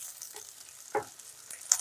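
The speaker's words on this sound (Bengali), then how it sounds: "পেঁয়াজটা হালকা ভাজা হয়ে যাওয়ার পরে দিয়ে দিচ্ছি সামান্য কিছু ক্যাপসিকাম" Onion and capsicum fry in a pan with a quiet, intermittent sizzle and a few stirring scrapes, faint and close.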